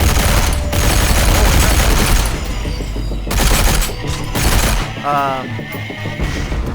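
Sustained gunfire from a VR shooter such as Pavlov, loud and continuous bursts with crashing impacts filling the clip, ending in a quieter tail.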